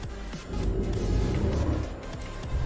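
Truck engine in Euro Truck Simulator 2, a continuous low, heavy rumble that stays loud and steady and blends with background music; no speech.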